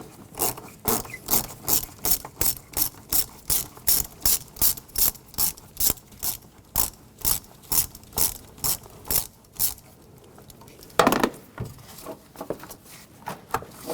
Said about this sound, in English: Use a 10mm socket. Loosen this up.